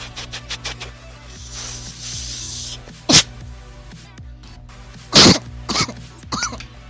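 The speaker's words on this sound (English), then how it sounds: "You missed the cough." A person coughs several times: a sharp, loud cough, then a heavier burst and a couple of smaller follow-up coughs, close to the microphone over a low electronic hum.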